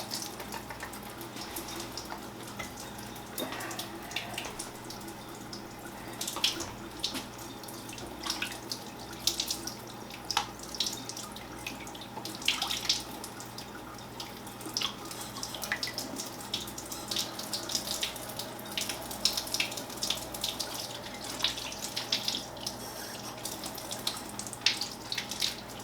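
Warm tap water runs steadily into a sink, with light splashing and occasional small knocks as eggs are scrubbed and rinsed under the stream.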